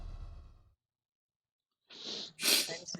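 A single sharp human sneeze during a zombie survival game session, loud and close, following a brief pause after a low voice and ending in a quick breathy burst.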